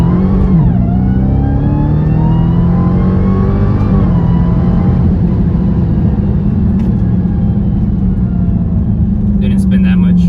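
A 2021 Dodge Charger Hellcat Widebody Redeye on Toyo R888R tires pulls through a first-gear roll from about 4,000 rpm, its engine note loud and close with a rising roar that swells, dips, then holds a steady drone.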